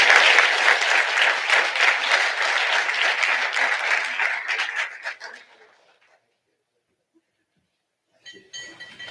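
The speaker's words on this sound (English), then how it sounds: "Another round of applause, ladies and gentlemen." Audience applause at a Board of Education public session fills the room, loud and dense for about five seconds, then thins out and fades into silence before a brief return of scattered noise near the end.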